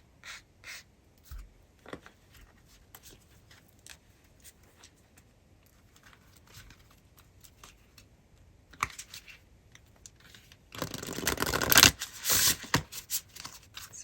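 Oracle cards handled and shuffled in a quiet room, soft papery taps and riffles scattered through, building to a louder dense burst of shuffling near the end.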